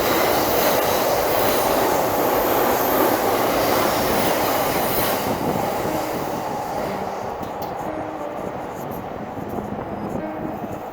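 A train bound for Shinjuku rumbles past on a line right beside a school in Japan, a loud, steady roar of wheels and cars that fades slightly toward the end, with no voices.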